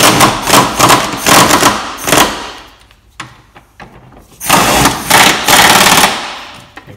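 An Ingersoll Rand impact wrench on its high setting hammers a 17 mm bolt during a Honda Civic rear disc brake swap, firing several loud, close rattling bursts separated by short pauses and softer clanks.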